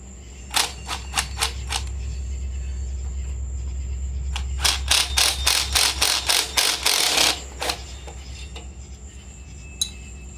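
Bolts on the pump of a Briggs and Stratton vertical-shaft pressure washer are worked loose with a ratchet, giving two bursts of rapid, close metallic clicks, the second longer and louder, with a low mechanical hum underneath.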